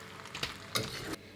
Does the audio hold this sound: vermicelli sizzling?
yes